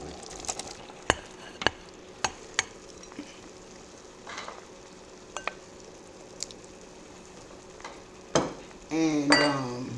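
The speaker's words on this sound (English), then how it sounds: "I'm about to put my seafood mix" Seafood mix being added to a pot and stirred, with sharp metallic clinks and scrapes at irregular intervals over a light sizzle, ending in a louder burst of stirring and splashing.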